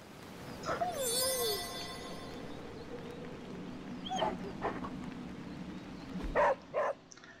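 A dog in Marvel Midnight Suns gives a few short, quiet barks and yips spread across the moment, soft and somewhat distant over a low ambient game backdrop, with a brief whining call early on.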